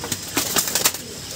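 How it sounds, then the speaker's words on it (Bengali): Pigeons kept in cages give soft, brief coos and calls in a few short bursts, close by and moderately loud, with a faint flutter of activity and no talking. "এই দেখুন এই খাঁচাও পায়রা আছে কিছু,"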